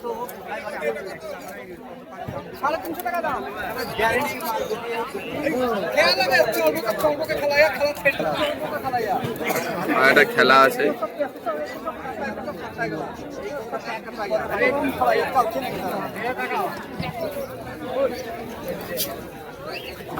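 A crowd at the Beldanga pigeon market in Murshidabad fills the air with dense, continuous chatter, overlapping voices rising and falling close around throughout.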